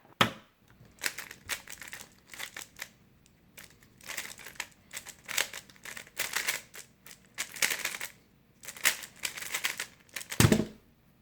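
A Mr. M magnetic budget speed cube being turned quickly, giving clusters of crisp clicking and clacking layer snaps in irregular bursts with short pauses, close and fairly quiet.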